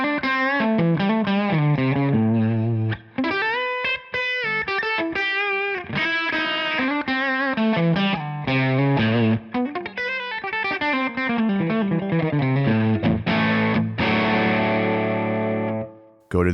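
Distorted electric guitar played through a Tonex amp modeler with the treble cut at 1000 Hz, giving a dull, dark tone; a continuous run of sustained chords and notes, loud and close, with no talking.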